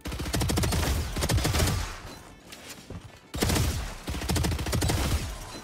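Rapid automatic gunfire in the video game Valorant, fired while running, comes in two loud, dense bursts separated by a short lull.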